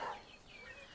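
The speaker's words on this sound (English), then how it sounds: "there's a bunch of chickens in there, and they're doing their thing at the moment" Chickens cluck inside a coop on a spring homestead, faint and distant, with soft overlapping calls over a hushed background.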